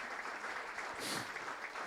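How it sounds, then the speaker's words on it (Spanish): A church congregation claps together in brief, steady applause, heard faintly and at a distance, with a slight swell in the middle. "Dale un aplauso fuerte a nuestro Dios Todopoderoso"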